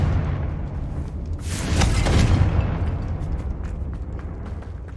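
A Confringo blasting spell bursts in Hogwarts Legacy, a swelling muffled boom rising out of steady low rumble and fading slowly, with no talk over it.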